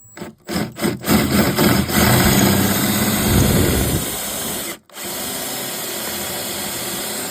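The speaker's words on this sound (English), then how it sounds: "So I'm going to have to get the drill in and try and drill it out." A power drill bores into a rounded bolt on the sliding door step of a 2018 Mercedes Sprinter van, running loud and close in a steady grind that pauses briefly near the end and then resumes.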